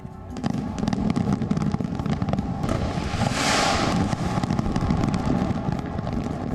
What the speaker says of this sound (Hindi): मशहूर हार्बर ब्रिज पर 184 जगहों से 7000 इफेक्ट्स के जरिए आतिशबाजी का शो किया गया।